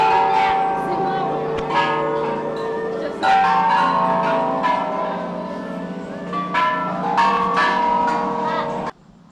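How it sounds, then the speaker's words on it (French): Temple bells in Thailand are struck one after another, bright metallic rings overlapping and ringing out in a steady series of strikes, with people talking faintly in the background. "Il faut sonner les cloches et ils commencent de la première jusqu'à la dernière."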